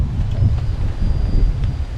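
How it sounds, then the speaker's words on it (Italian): Gusting wind buffets the microphone in a continuous low rumble that rises and falls, with no voices, on a road in Norway toward the North Cape. "Nel frattempo si è alzato anche il vento."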